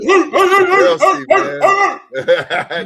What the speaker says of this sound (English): That's the dog, man. You get a dog approval.